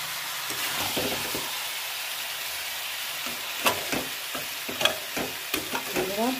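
Whole onions fry together with brain in a pan, producing a soft, steady sizzle punctuated by sharp stirring scrapes and clatter that grow busier toward the end.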